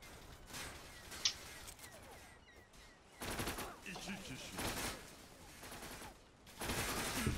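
Bursts of automatic gunfire from the online shooter Zula ring out in several loud clusters, with quieter stretches between them and players chatting over the action.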